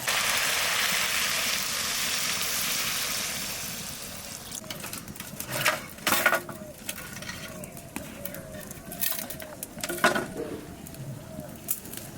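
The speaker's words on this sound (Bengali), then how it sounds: "এবার জল দিয়ে দেবো" Water is poured into a cooking pot of prawns with pumpkin and Malabar spinach. A steady, hissing rush runs for about four seconds, then gives way to scattered clatter and faint background sounds.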